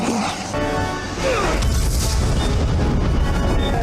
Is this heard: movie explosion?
yes